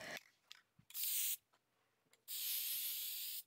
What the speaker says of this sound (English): I sprayed it with a satin sealer first.